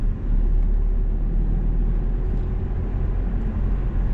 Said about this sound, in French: On lâche l'accélérateur, on appuie sur l'embrayage, on met la 3. On relâche. On accélère encore.